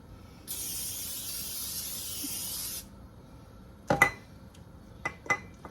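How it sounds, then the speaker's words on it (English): A steady hiss of aerosol baking spray lasting about two seconds, sprayed into a baking dish, followed by a few sharp clinks of metal and dishes. "We're going to just spray some baking spray in there."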